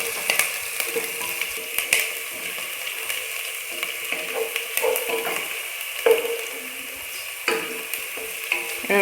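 Sliced onions and green chillies fry in a pan, giving a soft ongoing sizzle broken by sharp scraping and clinking strokes of a spoon being stirred against the pan at irregular intervals, with no voices.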